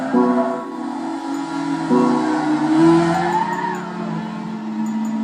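Damaged Honda S2000 race cars in Gran Turismo 6 drive past with loud engine whine and harmonic revving, tires squealing and skidding as they crab along, close and continuous without talk.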